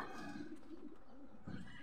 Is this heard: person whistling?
no